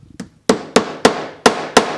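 A small hammer lightly taps a fret into its slot on a ukulele neck during hand building, giving six sharp, evenly spaced close taps after a few faint softer knocks.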